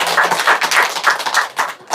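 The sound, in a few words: congregation applause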